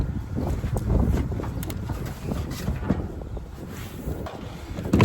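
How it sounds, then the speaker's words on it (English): Wind gusts buffet a microphone on an RV rooftop during air conditioner maintenance, a steady loud rumbling roar with fluctuating gusts throughout. "It's a windy day."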